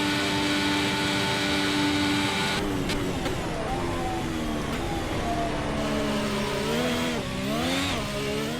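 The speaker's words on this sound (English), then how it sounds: "lining up for our second attempt with the front wheel drive F1 car" A front-wheel-drive Formula 1 car's engine screams loudly and continuously, its pitch dropping at a shift and then climbing and wavering as it accelerates, with no talking.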